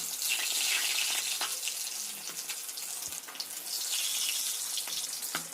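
Fish-oil fritters frying in hot mustard oil, giving a steady, dense sizzle and crackle close up that runs throughout with small pops, no voices.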